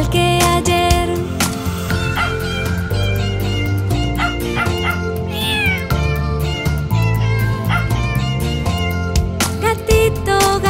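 Cartoon cat meows in a Spanish-language children's song, repeated bright mewing calls mixed with dog yips and whimpers over a loud, busy musical backing.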